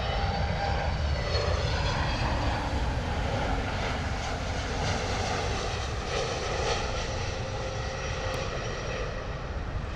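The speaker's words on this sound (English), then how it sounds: "A321neo coming in from Glasgow." An Airbus A321neo from Glasgow lands at London Heathrow Airport, its engines producing a loud, continuous broadband roar that holds steady and near throughout.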